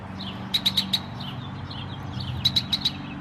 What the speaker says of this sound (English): there's so many birds out here right now